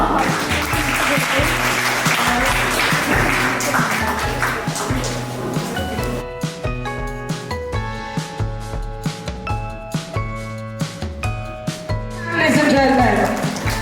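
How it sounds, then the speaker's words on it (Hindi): An audience at a Daulat Ram College achievement event breaks into steady, loud applause, which then gives way to music with crisp tonal hits and scattered claps, swelling again at the end. "तो एक बार जोरदार तालियां।"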